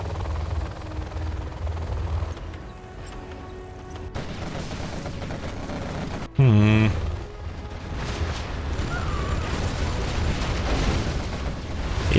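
In the real-time strategy game C&C Generals Zero Hour, a Gatling cannon fires in a sharp, loud, rapid burst lasting under a second, amid steady battle noise of engines and distant explosions, with a commentator talking over it.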